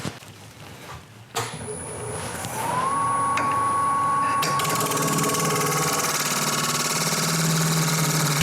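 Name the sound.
wood lathe turning a mulberry bowl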